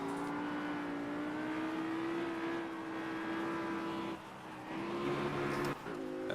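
An Audi R8 V10 racing at Zolder in Project Cars, its engine holding a steady, loud high-revving drone with brief dips and shifts in pitch near the end.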